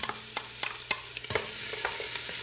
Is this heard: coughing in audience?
no